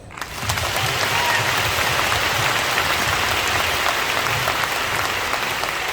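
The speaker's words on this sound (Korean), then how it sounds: "박수 한번 해요" Audience at a Korean Christian rally claps steadily after being asked to applaud a pastor; the dense, continuous clapping starts abruptly and holds loud for several seconds without talk.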